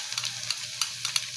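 Garlic sizzles in a hot pan for chicken pastil, a steady high crackle with a few sharper pops and scrapes, close and fairly quiet throughout.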